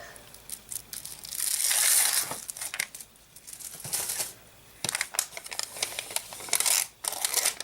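Cellophane-backed sticky adhesive peeled apart on a paper card project: a crinkly, crackling tearing rustle in several close bursts, with short pauses between pulls, no talking.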